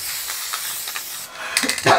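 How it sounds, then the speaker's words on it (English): An aerosol spray can, nearly empty, sprays quilt batting, producing a close, breathy hiss with short bursts and a louder spurt near the end. "And I like to spray the batting."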